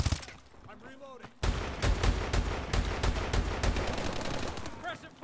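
Rapid automatic gunfire from Call of Duty Advanced Warfare erupts loud and dense after a quieter opening, sustained bursts with sharp shots continuing to the end, while a faint voice sounds early on.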